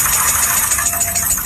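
A car engine with an abnormal knocking fault runs steadily, a loud continuous mechanical clatter with rapid rhythmic knocks and rattling vibration, heard alone without talk.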